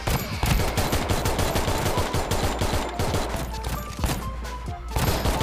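Rapid, dense gunfire from the Free Fire video game crackles continuously in sharp bursts throughout, loud and close, with no speech over it.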